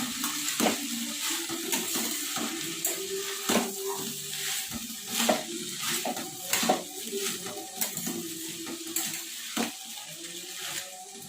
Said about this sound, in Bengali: পেঁয়াজ দিয়ে হালকা নাড়াচাড়া করবো